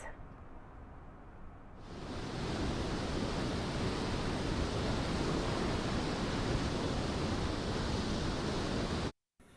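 Heavy floodwater pouring into the Sripada Yellampalli project reservoir in Peddapalli district, a dense, unbroken roar that swells after a quieter opening and holds steady before cutting off near the end.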